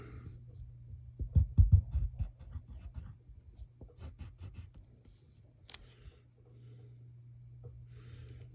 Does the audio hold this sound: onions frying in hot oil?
no